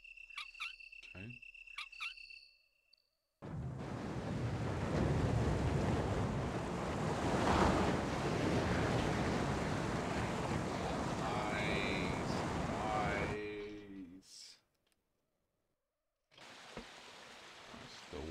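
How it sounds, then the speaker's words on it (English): Steady rushing of running water in the Resident Evil video game, a loud continuous wash lasting about ten seconds with brief game sounds before and after. "Water is running down the opposite side."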